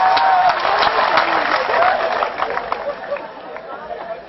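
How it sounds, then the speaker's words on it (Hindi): Audience applause and clapping at a Haryanvi comedy show, a steady dense patter of many hands mixed with crowd chatter, fading somewhat toward the end. "बजाओ ताली, ढंग से बजाओ यार।"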